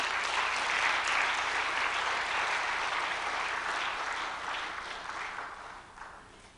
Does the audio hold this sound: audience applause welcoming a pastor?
yes